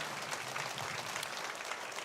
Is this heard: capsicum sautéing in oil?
no